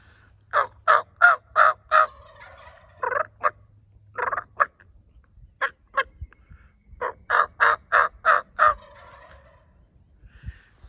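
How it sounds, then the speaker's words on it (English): Wild turkeys gobble in several rapid rattling bursts, fairly near and clear against a quiet outdoor background, with short pauses between calls. "They're gobbling at me, calling"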